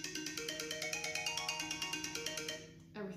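A mobile phone plays a repeating melodic ringtone, loud and close, in steady rhythmic pulses for about three seconds before it cuts off.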